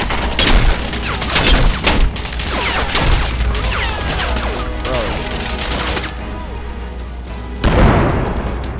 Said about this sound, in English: Wait, who's shooting at me?